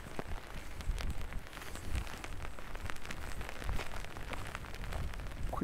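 Rain falling steadily on an outdoor street by the 1959 Kirkenes Church in Norway, a dense continuous patter with scattered sharper drops close by, with no talk.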